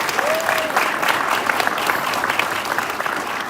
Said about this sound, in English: So, man, everybody give a round of applause for Mr.